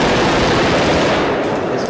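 A futuristic rapid-fire weapon from The Fifth Element, the Z1, unleashes a dense, loud, continuous burst of close gunfire with no pauses.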